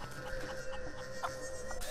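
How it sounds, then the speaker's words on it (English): A chicken clucks in the video game Rabbids Travel in Time, a few quiet short clucks over a steady electronic game background tone. "Chicken again."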